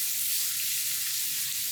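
Vegetables for a veggie lasagna sizzling and being stirred in a pan, a close, steady hiss of frying that lasts under two seconds.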